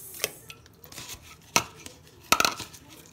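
A knife slicing through an onion on a cutting board while preparing beef nilaga soup, giving several sharp, close chopping knocks spaced irregularly, with a quick double strike near the end and quiet kitchen room tone in between.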